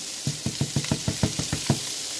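Onion and ginger hit a hot pan for laing made with taro leaves, setting off a run of about nine sharp, evenly spaced sizzling bursts over a steady background hiss, close and clear with no talking.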